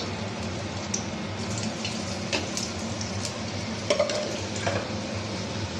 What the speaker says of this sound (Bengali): কড়াইয়ে তেলটা দিয়ে দিয়েছি, এবার একটু পাঁচফোড়ন দিয়ে দেবো।